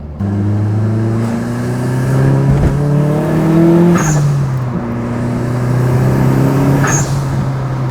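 A turbocharged 330-horsepower Nissan S14 engine revs loudly and close by, its droning pitch climbing and dropping through gear changes. Short hissing bursts come between the pulls.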